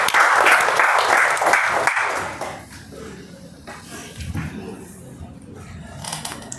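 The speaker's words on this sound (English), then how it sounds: "Big round of applause." Audience applause at a Toastmasters club meeting for Toastmaster Vaishnavi, a dense round of clapping for about two seconds that tapers into scattered claps with faint murmuring voices after.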